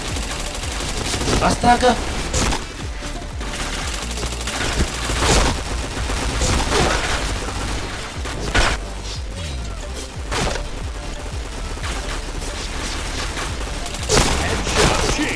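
Gunfire in the online shooter Point Blank comes as rapid bursts of automatic shots and single cracks, loud and dense throughout, with game announcer callouts and a player's brief exclamation mixed in.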